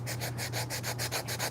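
A piece of wood is hand-sanded to cut a hinge recess, in quick even back-and-forth scraping strokes, about nine in a second and a half, close and alone over a low steady hum.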